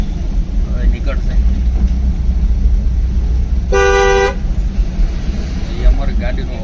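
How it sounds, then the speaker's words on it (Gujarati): A CNG car gives a single short, loud horn toot of about half a second, close by amid road and traffic noise, with people talking around it. "એ અમારી ગાડીનું હોર્ન હતું."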